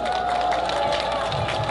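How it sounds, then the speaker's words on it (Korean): Crowd cheering and applause at an outdoor campaign rally for the People Power Party in Nampo-dong, Busan. The noise is steady and dense, with a muffled rumble near the end. "우리 김종인 비대위원장에게 뜨거운 박수 한번 보내주십시오."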